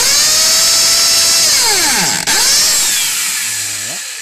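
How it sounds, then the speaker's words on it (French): A power drill with a bit bores a hole through a license plate, its motor whining loudly and steadily, pitch dipping as the bit catches and then winding down as the trigger is released. "il faut une perceuse, bien sûr, avec une mèche"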